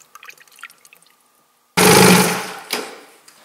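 Evans waterless coolant is poured into the head of an overheated snowmobile engine: faint drips and small clicks first, then a sudden loud gush of liquid that tapers off, with no talking.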